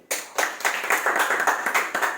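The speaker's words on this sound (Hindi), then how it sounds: "अपने लिए तालियां बजाएं" A church audience claps in a quick, rhythmic burst of applause, many hands striking together loudly and steadily for a couple of seconds with no talking.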